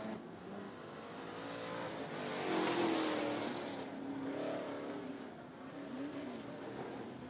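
Race cars at 411 Motor Speedway come off turn four as a field, engines droning at a distance and swelling as they pass, then fading and rising again in a steady roar.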